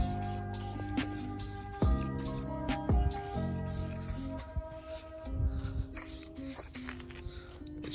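New Bike in a Can aerosol sprayed onto a dirt bike, a Suzuki RMZ250: steady loud hissing bursts from the can, broken by brief pauses and clicks of the nozzle, close up with no talking.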